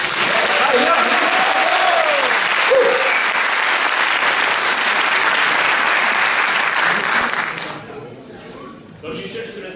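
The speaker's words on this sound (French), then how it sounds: "On l'applaudit." Loud, dense applause from the crowd at a conference by two game developers at TGS 2011, sustained for several seconds before fading out, followed by a brief quieter stretch with a voice.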